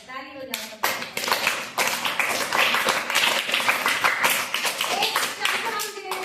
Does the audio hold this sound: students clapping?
yes